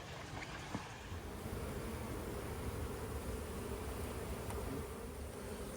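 Honey bees buzzing steadily around an open beehive during a hive inspection and maintenance, a dense continuous hum close by with no talk.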